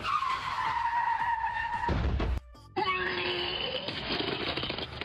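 A car with failed brakes skids, its tires wailing loud and long before a sudden thud and brief quiet, then a fresh high screech carries on to the end.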